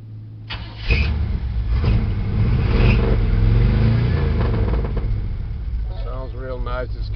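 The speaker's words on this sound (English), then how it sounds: "Sounds real nice. It's got throaty exhaust." A restored 1960 Chevrolet El Camino restomod starts and revs, its new deep throaty exhaust rumbling steadily, with a voice speaking briefly near the end.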